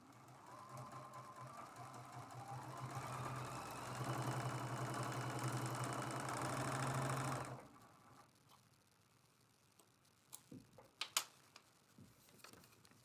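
A sewing machine stitching a paper-pieced quilt block runs steadily for several seconds with a whirring hum, then stops, leaving faint handling clicks and rustles.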